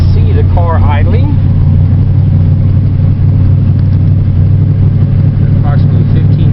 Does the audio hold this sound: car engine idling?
yes